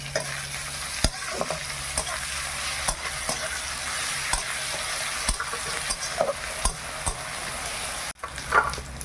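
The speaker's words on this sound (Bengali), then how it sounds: "এবার রসুন বাটাটা দিয়ে দে" Garlic paste frying with onions in a pan, sputtering steadily up close while a spatula knocks and scrapes the pan at irregular intervals, without speech.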